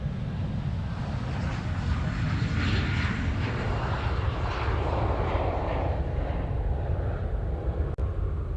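A Jetstar airliner moves on the ground at Honolulu airport, its jet engines giving a loud, steady roar that holds for the whole stretch with no break.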